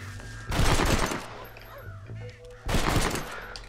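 Two bursts of rapid gunfire aimed at crows in the Western video game Red Dead Redemption, loud and dense, separated by a quieter gap with faint bird calls in between.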